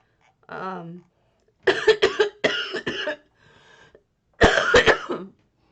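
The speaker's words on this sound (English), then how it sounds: "before I start having even more disgusting coughs" Several harsh, chesty coughs in short bursts, close and loud, separated by silences, with a brief vocal sound at the start.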